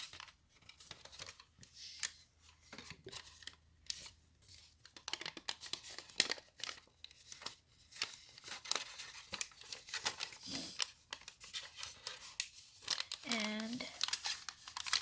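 Origami paper being folded into a heart makes soft crinkles and creases close by, in short bursts under a speaking voice.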